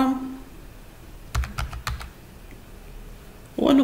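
Four distinct close keystrokes on a computer keyboard enter a short numeric code, evenly spaced and sharp against a quiet background, with a brief voice fragment at the edges.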